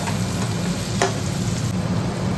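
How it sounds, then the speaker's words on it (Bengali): Potatoes stirred in a pan with already fried onion and garlic, a steady close sizzle of frying with scraping stirring and one sharper clatter midway, no voices. "এদিকে আমার পেঁয়াজ আর রসুনটা ভাজা হয়ে গেছে এর মধ্যে আমি দিয়েছি আলু একটা আলুটা দিয়ে মানে ভালো করে নাড়াচাড়া করে নেবো"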